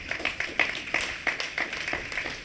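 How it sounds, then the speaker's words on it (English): A college audience at a TVET campus event claps in a brief round of applause, a steady patter of many hands with a few sharper individual claps standing out. "Can you please give yourself a round of applause?"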